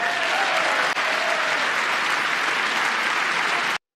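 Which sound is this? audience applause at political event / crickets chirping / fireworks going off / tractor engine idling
audience applause at political event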